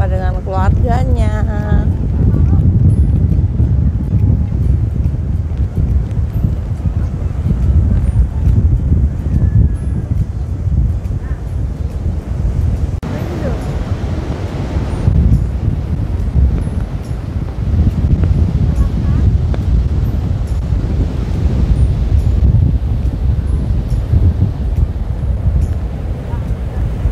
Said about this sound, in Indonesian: Ombaknya gede guys, terus di sini tuh anginnya kenceng banget.